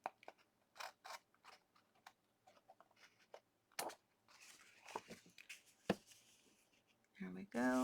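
Long scissors snip through paper scraps for a quilt-style page, giving a series of crisp, close cuts in irregular bursts, followed by rustling paper near the end.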